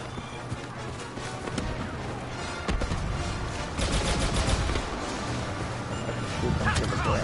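Blaster gunfire in Star Wars Battlefront 2 online multiplayer, a steady dense stream of shots and impacts that stays loud throughout, with a voice talking over it.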